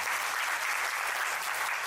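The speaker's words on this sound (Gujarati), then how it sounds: "ભારતીય જનતા પાર્ટીના મહેસાણા જિલ્લાના ખૂબ જાગૃત પ્રમુખ શ્રી ગિરીશભાઈ રાજગોર સાહેબને તાળીથી વધાવો" Audience applause welcoming the Mehsana district BJP president at a Guru Purnima festival gathering at Bhudar Niraant Dham, Mehsana; steady, dense clapping from a large crowd sustained throughout, with no talk.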